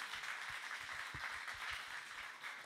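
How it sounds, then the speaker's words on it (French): Faint, distant applause from an audience after talks at a conference on 2050 transition scenarios at the TEEP 2023 trade fair, a soft steady patter of clapping throughout. "On peut vous applaudir pour ces interventions."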